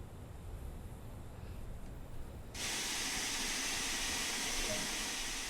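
Steam locomotive in Train Sim World 2 on the Liverpool to Crewe route, its low rumble suddenly giving way to a loud, steady broadband hiss of released steam that continues to the end.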